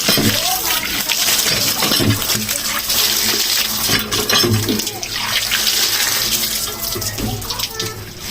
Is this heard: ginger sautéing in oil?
no